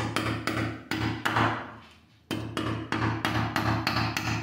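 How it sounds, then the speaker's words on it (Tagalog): Steady hammer blows drive a concrete nail into a wooden wall angle, about a dozen close, sharp strikes in a regular rhythm with one short pause partway through. "Pag gagamitin nyo concrete nail. Tsaka mas madali siyang ipako."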